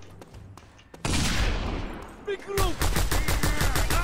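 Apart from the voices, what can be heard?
shotgun gunfire in the video game Just Cause 2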